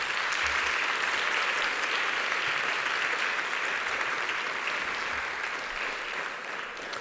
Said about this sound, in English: So please give a round of applause for everyone who has presented at this conference.